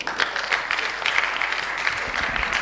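A conference audience applauds, a dense, even wash of many hands clapping at steady loudness that fills the whole moment, close and without pause.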